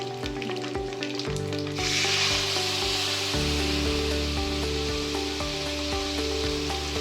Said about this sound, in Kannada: ಇದೆಲ್ಲ ಫ್ರೈ ಆದ ನಂತರ ಹುಣಸೆ ರಸ ಸೇರಿಸ್ಕೊಳ್ತಾ ಇದ್ದೀನಿ